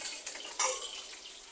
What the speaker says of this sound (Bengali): তরকারিটা ভাজা হয়ে গেছে, এখন একটু তুলে ফেলবো।